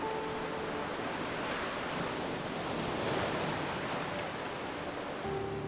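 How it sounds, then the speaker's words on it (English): Water with waves or surf washes steadily throughout in a redwood forest setting, a broad, even rush at moderate distance with no voices. "and the sound of the water"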